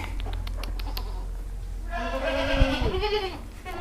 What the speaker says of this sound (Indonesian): Nah, ini dia kambingnya.